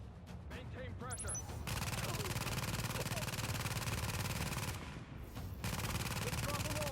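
Video game shootout with sustained rapid gunfire, loud and dense bursts of automatic fire running almost continuously, briefly dropping away before resuming at full intensity.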